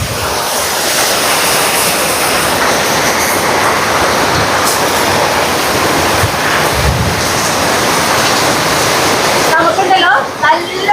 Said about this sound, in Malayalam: തലേ ദിവസം നമുക്ക് കിട്ടിയ വേനൽ മഴയുടെ വിശേഷങ്ങളായിട്ട് ഞാൻ കാണിച്ചു തരുന്നത്